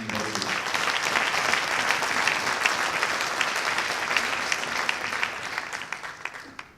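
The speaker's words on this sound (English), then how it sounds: "Please don't clap so much, because it really makes me very nervous." An audience at a Hindu media forum in 2018 claps steadily and loudly for an arriving guest speaker, dense applause sustained throughout with a few sharper individual claps near the end.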